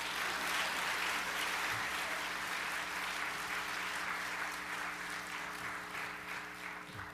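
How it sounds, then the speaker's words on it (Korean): A small church congregation applauds during a Christmas service, a steady patter of clapping that lasts several seconds and slowly tapers, heard somewhat distantly under a faint low hum. "자, 박수 한번 합시다."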